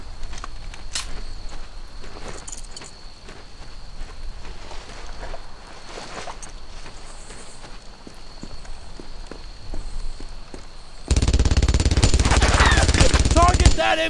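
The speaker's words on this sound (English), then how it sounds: "MG-42!" MG-42 machine gun firing in Brothers in Arms: Earned in Blood, a loud, dense continuous burst erupting near the end after quieter battlefield ambience with distant shots and footsteps.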